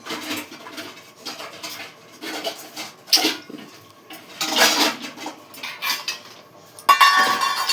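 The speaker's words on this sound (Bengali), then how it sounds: "তো সব বাসনগুলো আমার মেজে ধুয়ে এবার আমি সব সাজিয়ে দিচ্ছি। সব বাসনগুলো এক এক করে রেখে দিচ্ছি।" Freshly washed pots, a wok-style kadai and dishes are set down and stacked one by one, giving a run of close, irregular clinks and clatters of metal and crockery with brief rubbing between them and no talk.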